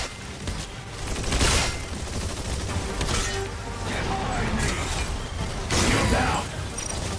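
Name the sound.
gunfire from enemies shooting in the video game Exoprimal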